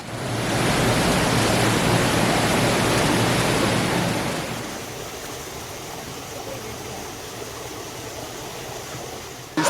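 Rushing water at Awhum Waterfalls in Enugu, Nigeria, roars as a dense, steady wash, loud for the first few seconds and then noticeably softer but still continuous.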